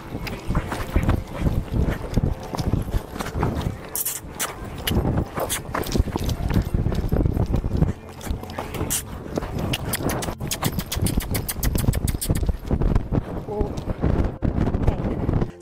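A horse's hooves thud and clop steadily across the dirt of a barrel racing arena, close and continuous over a low background rumble, with the rhythm picking up in places.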